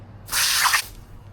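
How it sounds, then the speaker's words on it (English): A jet nozzle sprays water onto old car carpet near the seat rails, a single short hissing burst of about half a second, close and loud, over a faint low background hum. "Just scrub it while you're spraying it and it will go away."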